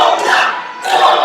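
Crowd noise at a wrestling championship event, a loud broad roar of cheering voices that swells, dips briefly in the middle, then rises again, with no clear speech over it.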